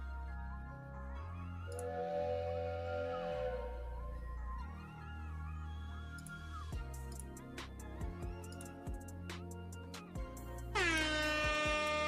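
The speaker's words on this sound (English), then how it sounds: "We definitely get a couple air horns for that" Several loud air horn blasts from a sound effect, sustained tones cutting over a rhythmic music bed, with a final bright, dense horn burst near the end.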